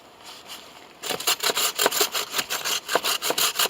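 A hand saw rasps through wood in quick, rhythmic back-and-forth strokes, close and loud, starting after a second of quiet.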